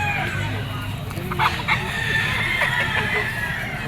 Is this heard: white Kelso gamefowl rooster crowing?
yes